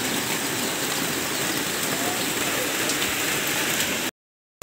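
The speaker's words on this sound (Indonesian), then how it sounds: "Ih hujan lagi." Steady rain pours down onto surfaces outside a house being painted, a dense, continuous hiss of drops that runs unbroken and then cuts off abruptly near the end.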